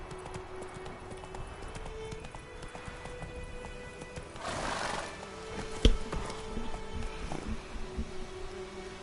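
Horse hooves clip-clop steadily in the video game Witcher 3, with a brief neigh and a sharp thump near the middle, all at moderate loudness over low background ambience.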